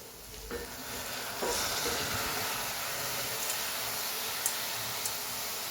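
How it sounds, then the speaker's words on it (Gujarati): Onions and tomatoes sautéing in a pan with spinach, giving a steady broad sizzle and frying hiss throughout, with occasional stirring scrapes and small pops. "ડુંગળી ટામેટા સોતે થઈ ગયા"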